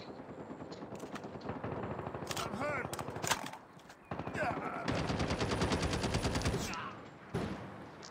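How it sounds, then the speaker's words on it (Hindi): Sentry gun in the Call of Duty video game firing rapid automatic bursts, loud and close, with stretches of sustained gunfire broken by brief pauses amid other game sounds. "लगा दी सेंट्री गन।"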